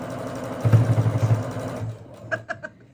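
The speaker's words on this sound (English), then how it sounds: "This is what sewing through 10 layers of fabric plus interfacing sounds like." Home sewing machine stitching slowly through ten stacked layers of fabric with interfacing, a labored mechanical hum with a strained, rhythmic pulse that winds down, followed by a few short clicks.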